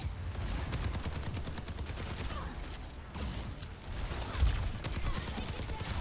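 Soldier 76's rifle fires into a wall in Overwatch in fast, continuous bursts of crackling gunfire over a busy game background.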